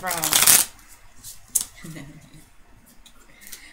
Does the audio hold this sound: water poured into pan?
no